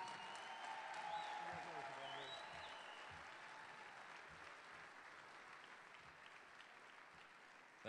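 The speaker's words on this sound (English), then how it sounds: "Let's get another round of applause for all the athletes here tonight." Sustained audience applause at an evening sports awards ceremony honouring athletes, broad and steady, gradually tapering off while a tone sounds faintly above it.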